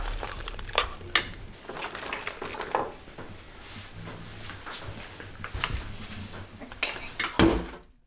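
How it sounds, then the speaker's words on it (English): Macaroni and cheese shifted from a pot into a baking dish: scattered clinks and scrapes of a utensil against cookware with soft squishy plops, moderately close, with a few louder knocks near the end and no talk. "Now we're going to move it to our baking dish"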